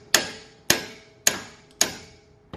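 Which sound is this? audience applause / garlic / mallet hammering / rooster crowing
mallet hammering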